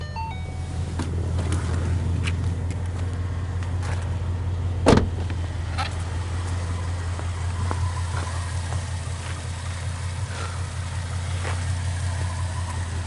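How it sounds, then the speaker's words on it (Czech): A Ford Mustang's naturally aspirated 5-litre V8 idles steadily with a low, even rumble, heard alone at moderate distance with a brief sharp click partway through. "No a je to 8-válec, 5-litr atmosféra."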